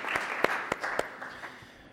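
Applause at a Lompoc city council meeting for the mayor of the day: a short, sparse round of clapping from a small room of people, a few distinct claps fading out within two seconds.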